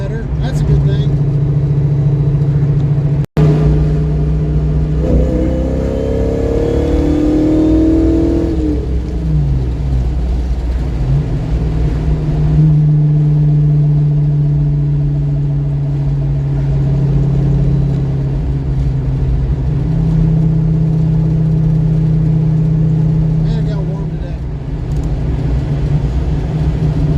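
A Ford 302 V8 idling and then revving off idle, the engine rising and falling in a few loud close pulls before settling back to a steady idle; someone talks in places over it.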